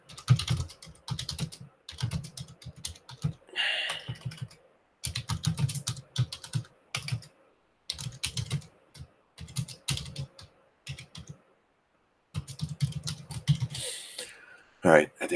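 Quick bursts of typing on a computer keyboard during a live technical analysis stream, clattering close by in uneven runs separated by short silent pauses.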